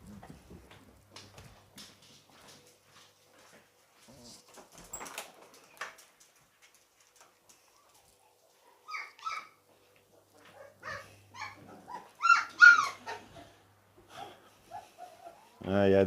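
Puppies stirring awake, giving soft whimpers and a few short yips and barks that grow busier toward the end, heard alongside someone talking in a quiet room.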